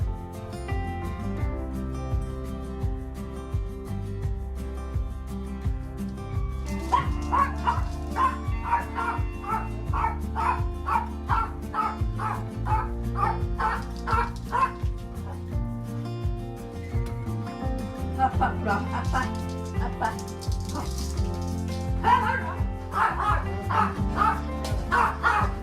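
A hearing dog barks and yips in short bursts scattered through a long stretch of steady background music.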